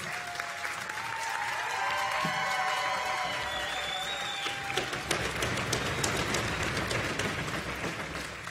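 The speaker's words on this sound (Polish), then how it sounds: "Brawa dla zespołu, brawa dla muzyków" A large audience applauds a folk song and dance ensemble at a live festival concert, sustained dense clapping throughout with lingering musical tones fading early on.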